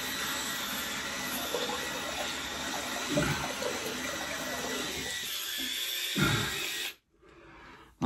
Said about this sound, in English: Let's rinse this out in cold water.